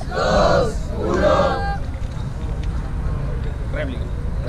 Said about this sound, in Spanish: Fuerte el aplauso, hermano.